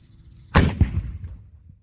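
A historic artillery cannon fires once at Fort George, Ontario, a sharp close blast followed by a quick secondary crack and a fading rumble, with no voices over it.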